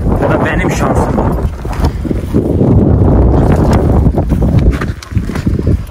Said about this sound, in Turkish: Rüzgar gene başladı.